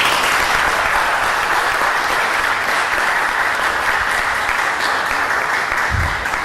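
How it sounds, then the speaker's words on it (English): An audience at a lecture on Lakota perspectives of Lewis and Clark gives sustained, even applause, a dense continuous wash of clapping that holds steady throughout. "let's give him another round of applause"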